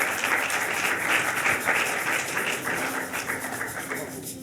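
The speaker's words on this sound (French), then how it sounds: "Est-ce qu'on peut applaudir, s'il vous plaît?" Audience in a church gathering applauds after an emotional moment, a dense, steady wash of many hands clapping close by that holds for the whole stretch and tapers slightly at the end.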